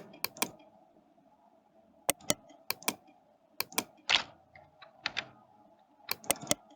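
Computer keyboard keys struck on a PC, sparse sharp clicks in small clusters with short pauses between, close and distinct over a faint background hum.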